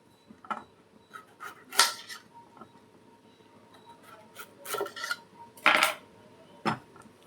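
Knife trimming the stem ends off vegetables on a board in a home kitchen: scattered sharp clicks and scraping taps, a few louder chopping strikes spaced irregularly, close and alone without talk.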